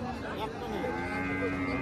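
A Sahiwal dairy cow lets out a drawn-out, droning moo, close and steady, while people talk nearby at an outdoor cattle sale.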